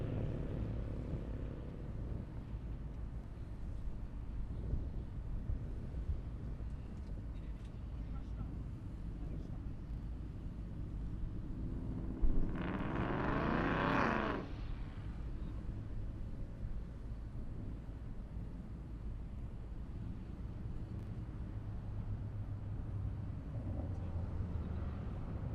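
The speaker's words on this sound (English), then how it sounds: "So we got a GTR coming up, Supra and a Mustang." GT-R, Supra and Mustang race cars at an airstrip drag event: a loud engine roars and accelerates past for a few seconds midway, rising over constant outdoor rumble and wind while an announcer talks.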